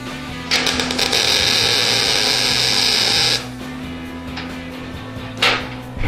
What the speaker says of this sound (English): Here we go, just a simple tack weld.